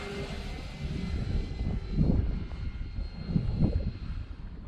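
Radio-controlled Draco model airplane in flight, its engine droning steadily with a swelling pass around the middle and a second rise near the end, moderately loud with no talk.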